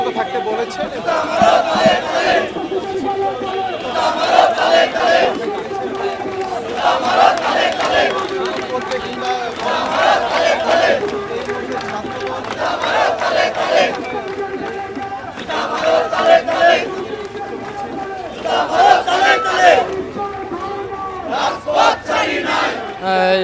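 Chanting crowd at a student wing protest march setting out from a central martyrs' monument against a banned party's programme, loud rhythmic shouted slogans in repeated bursts, near and dense throughout.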